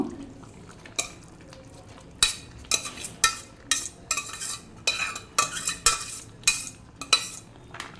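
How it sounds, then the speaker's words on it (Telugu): Cooked rice tipped into a pot and stirred with a metal spoon for dadhojanam or sambar rice, giving a series of sharp scraping clinks in bursts against faint background hiss, no talking. "ఇప్పుడు ఇందులోని అన్నం వేసేస్తున్నాను నేను"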